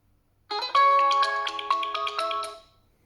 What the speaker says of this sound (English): Set the ringtone to the alarm.